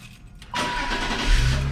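A 2003 BMW X5 engine cranks and fires within a second, then runs on at a steady, close idle with a low rumble that swells slightly near the end.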